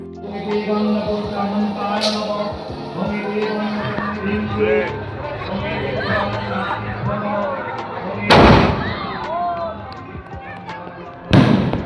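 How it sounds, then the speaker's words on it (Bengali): Firecrackers burst on Kali Puja night, now that restrictions have been lifted. A dense crowd murmurs throughout, and two sharp, loud bangs ring out near the end, one after the other. "এদিকে চলছে বাজি ফাটানো, প্রচুর বাজি ফাটছে আজকে"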